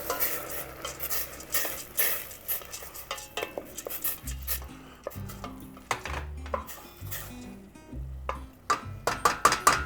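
Rice simmers with white wine in a pan, stirred with a utensil that scrapes and knocks against the metal in uneven bursts over a soft background sizzle, close and fairly loud, with no talking.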